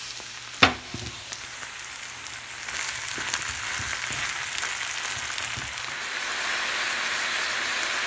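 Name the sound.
minced meat frying in a pan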